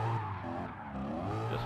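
Car tyres squeal and skid steadily as a car spins out in GT Sport, a sustained screech over the engine's low drone, fairly loud and close with no talking.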